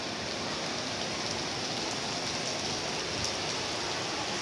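Steady rain pours down in the streets of Kinshasa, a dense continuous hiss with a close spatter of drops and no voices.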